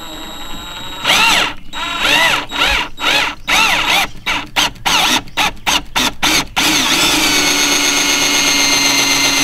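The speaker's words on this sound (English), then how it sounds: "let's drill some holes" A power drill boring holes into a Hobie Pro Angler kayak, loud and close: a whining spin-up followed by a rapid series of short on-off bursts as the bit bites into the plastic, then a steady run.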